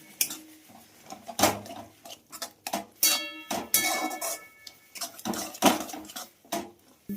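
Semolina is stirred into boiling water in a pot for potato roti dough, with a utensil clinking and scraping against the metal pot in quick, irregular knocks up close.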